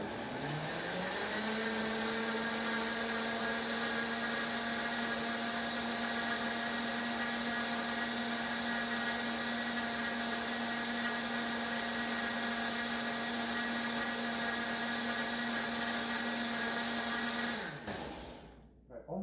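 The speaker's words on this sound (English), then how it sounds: "And so got it into smoothie mode. We'll just hit start" A KitchenAid K400 blender runs in smoothie mode on a keto strawberry smoothie with heavy whipping cream, spinning up, then holding a loud steady whirring drone for about seventeen seconds before winding down and stopping.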